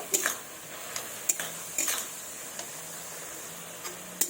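Bottle gourd curry with ground cumin, ginger paste and green chilli is stirred in a pan, with scraping spoon strokes and metallic clinks over a soft, low sizzle.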